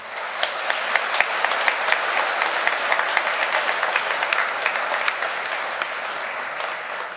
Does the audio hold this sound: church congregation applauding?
yes